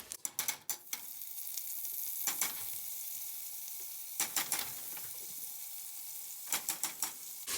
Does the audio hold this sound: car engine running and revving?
no